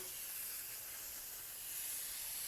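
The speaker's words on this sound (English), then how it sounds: "Maybe spray a little bit more on the inside just to make sure." Continuous hiss of an aerosol can spraying oil onto a Suzuki DR650 motorcycle air filter, a steady close, bright spray with no pauses and no talking.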